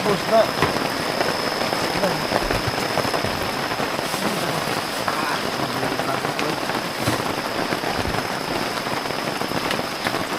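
Heavy rain pours steadily on a campsite at dawn, a dense continuous hiss of drops with no letup and faint low rumbles beneath.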